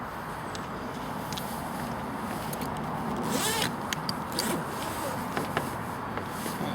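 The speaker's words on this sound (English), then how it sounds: "Just bear with me a second while I unzip it." Zipper being unzipped on a 5.11 Tactical CAMS 2.0 case, a soft continuous scraping run with a few brief louder pulls, close and fairly quiet.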